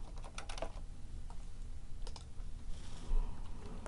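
Rapid typing on a computer keyboard, a steady run of close, crisp key clicks with no voices present.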